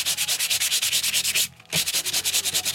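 Rhythmic, rapid scraping strokes of a sanding block rubbing across embossed card, loud and close, with a brief pause midway before the strokes resume.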